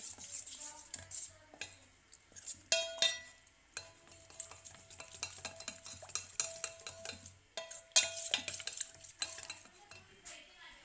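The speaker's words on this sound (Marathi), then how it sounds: "थंड दुधामध्ये आपण मस्तपैकी ही मिक्स करून घेणार आहोत" A spoon stirs custard powder into cold milk in a kitchen bowl, giving repeated close scraping and light clinking strokes in an uneven rhythm, with no talking.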